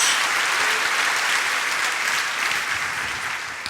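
A church congregation applauds in a steady, dense wash of clapping that fills the room, loud and sustained before tapering slightly toward the end, with no voices over it.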